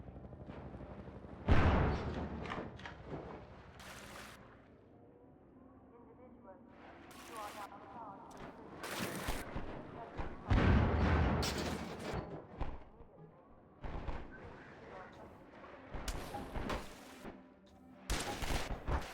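Gunfire and booming shots in Half-Life 2 come in scattered loud bursts throughout, some sharp and some rumbling, with voices talking between them.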